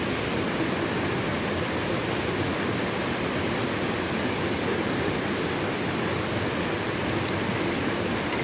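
Water in a creek along a bush-walk circuit makes a loud, unbroken rushing wash that holds level throughout, close by and with no voices over it.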